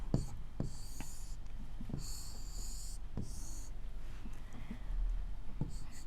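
Maths working on quadrilaterals is written out on paper, giving close scratchy pen strokes and taps. Breathy hissing bursts that sound like whispering or sniffing break in twice.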